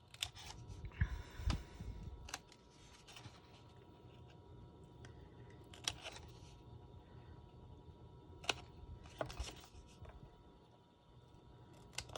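Small scissors snip notches into paper for a coffin-shaped shaker box card, several sharp, close cuts scattered irregularly over quiet handling noise.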